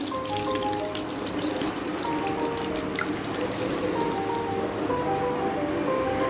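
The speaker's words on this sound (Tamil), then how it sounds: "ஒரு தக்காளியை பொடிசாக நறுக்கி வச்சுருக்கேன், அதையும் சேர்த்து நல்லா வதக்கிக்கிறேன்" Continuous hissing sizzle of shallots and chopped tomato sautéing in a pan, steady and fairly loud, with no speech.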